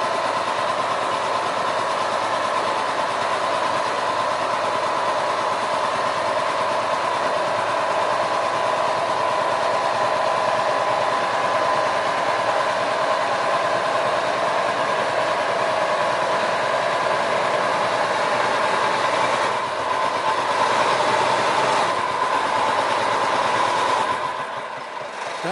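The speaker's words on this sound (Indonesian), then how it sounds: "Oke, lokomotif mulai mencoba berjalan kembali, teman-teman." A sugar cane railway locomotive at PG Kedawung on track partly buried in soil, its engine droning steadily and loudly for the whole stretch as it tries to move off, with a slight change in tone near the end; no talk.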